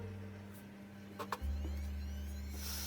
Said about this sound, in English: This is the first CNC machine customized in Huaqiangbei, Shenzhen to open slots on iPhone frames.